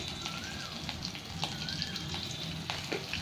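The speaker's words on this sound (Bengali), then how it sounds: "একটু তেজপাতা আর গোটা জিরে, একটু ইলাইচি ফোড়ন দেবো" Whole bay leaves, cumin seeds and cardamom pods tempering in hot oil give a steady, fairly quiet sizzle and crackle throughout, with a few sharper pops and no voices.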